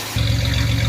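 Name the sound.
Chevy Celebrity 2.8 V6 engine and exhaust running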